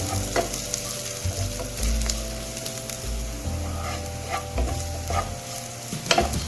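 Onion, garlic and green chilies sizzle and fry in a hot pan for a Kannur-style fish curry, with a steady crackling hiss and occasional stirring scrapes throughout.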